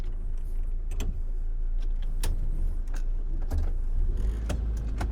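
A Suzuki SJ 4x4 in low gear climbing uphill, its engine a steady close drone with occasional rattles and clunks from the body over rough ground.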